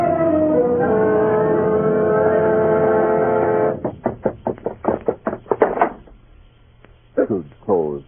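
Heavy iron chain clanging and clattering down stone cellar stairs in an old house, a rapid burst of sharp metallic knocks following a sustained droning tone, then a few scattered clanks fading off.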